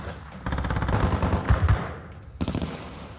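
Rapid gunfire in Call of Duty Modern Warfare, a dense stream of shots and impacts through the first half, a lull, then another short flurry near the end; no talking.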